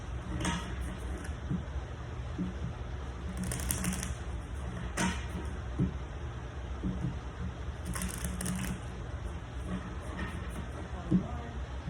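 Tarot cards are shuffled in quick papery bursts, a few riffles and taps separated by short pauses, close by with no speech.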